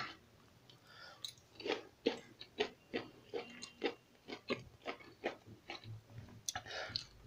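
Someone chews a mouthful of stir-fried rice with crunchy carrots, close and quiet, with a regular series of crisp crunches roughly every half second and no talking.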